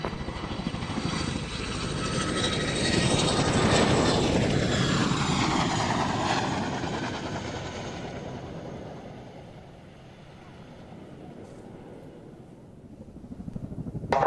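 Piper Apache aircraft on final approach to runway 02, its engine drone swelling loudly as it passes close with a falling Doppler sweep, then fading into the distance before another rise at the end.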